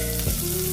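Onions sizzle and fry in hot cooking oil in a pan, a brief, steady crackle with no voices.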